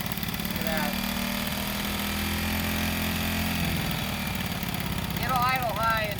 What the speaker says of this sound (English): It'll idle high until it settles down.